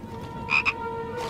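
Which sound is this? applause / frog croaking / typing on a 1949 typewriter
frog croaking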